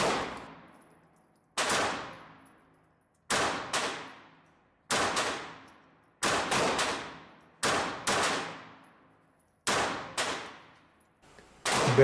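A S&W M&P Shield EZ .380 pistol fires at a range, eight sharp, loud shots spaced roughly a second or two apart, each ringing off with a decaying tail.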